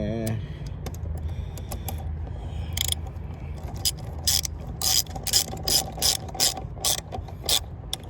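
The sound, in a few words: ratchet tightening a bolt with an 8mm socket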